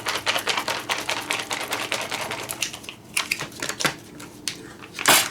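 Crinkly rustling and crunching as freeze-dried Sloppy Joes are kneaded and shaken inside a mylar bag, a quick irregular series of sharp crackles and taps, close and fairly loud.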